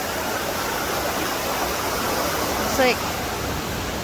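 Steady broadband rush of a waterfall flowing near trees with small openings at their bases, constant and fairly close, with a brief voice speaking near the end.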